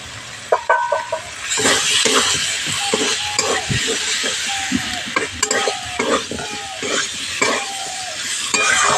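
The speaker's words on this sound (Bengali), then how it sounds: "ভেজে রাখা আলুগুলো দিয়েও মশলার সঙ্গে একটু কষিয়ে নেবে" Fried potatoes being stirred into a spice masala in a pan: a constant sizzle with repeated scraping strokes and light metallic clinks from the spoon, close and fairly loud, with no voices.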